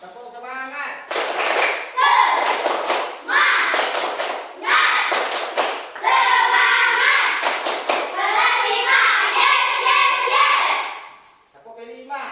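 A classroom of children claps in a rhythmic chant, bursts of hand claps alternating with their voices calling out the words loudly and close together.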